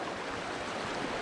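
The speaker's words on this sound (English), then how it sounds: "the falls are right back there" A waterfall near a footbridge on Colorado's Diamond Lake Trail rushes in a steady, broad hiss of falling water, fairly faint and unbroken, with no voices.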